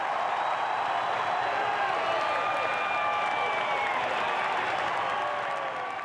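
Adoring cricket crowd at the SCG applauding Steve Waugh's farewell as Australia captain, a dense, steady roar of clapping and cheering that fills the whole stretch without a break.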